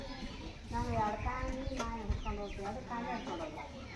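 Chickens cluck and call repeatedly nearby, with voices talking over a low background rumble.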